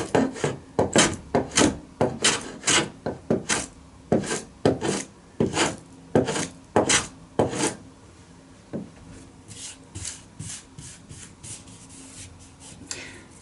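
Filing down the edge of a wooden piece by hand, a steady run of rasping strokes, loud and close at first, then growing lighter and quieter toward the end, with no voices.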